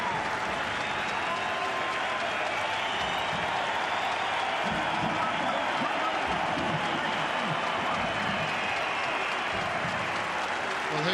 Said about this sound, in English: this is going to be the biggest round of applause of the night